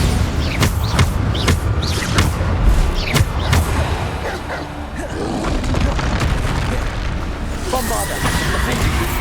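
Bombarda spell explosions in Hogwarts Legacy, a string of loud booming bursts in quick succession, then a rumbling stretch with game effects and voices mixed in.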